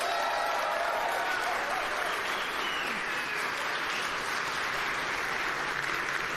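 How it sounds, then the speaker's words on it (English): Sustained audience applause at a JavaScript conference, steady and even throughout, a broad wash of clapping from a large crowd with no voices standing out. "So please give Catalin a huge round of applause."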